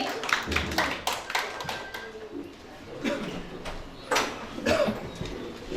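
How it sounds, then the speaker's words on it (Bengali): An audience at a Human Rights Day gathering claps to welcome a guest, with sparse, uneven hand claps coming in scattered bursts rather than a full sustained round. "আসুন করতালির মাধ্যমে স্যারকে আমরা বরণ করে নেই।"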